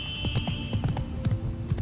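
Roach, a horse in The Witcher 3, trots with a steady rhythmic clip-clop of hooves close by, over a faint high steady tone and a low hum.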